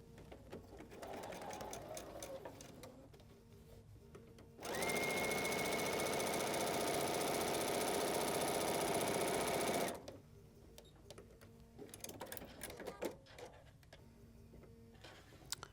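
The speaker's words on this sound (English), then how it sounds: "I am sewing with a regular 1/4 inch foot. This is a BERNINA 790" A BERNINA 790 sewing machine with a regular quarter-inch foot and dual feed stitches fabric in one steady, close burst of about five seconds, with quieter handling clicks and rustles before and after.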